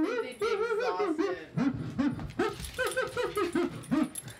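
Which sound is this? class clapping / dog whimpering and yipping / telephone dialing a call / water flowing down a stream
dog whimpering and yipping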